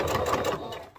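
A sewing machine backstitches a seam on a daisy top, its motor buzzing steadily and close for about a second before tapering off, with no talk.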